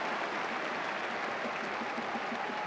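A football stadium crowd at a Swindon Town versus Aston Villa match, a dense continuous roar of many voices and scattered clapping, loud and steady throughout.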